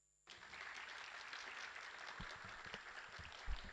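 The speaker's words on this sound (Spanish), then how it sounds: "recibámosle con un fuerte aplauso" Audience at a senate symposium on preventing violence against women breaks into applause, which starts abruptly and holds as a steady, fairly distant wash of clapping with a few thumps near the end.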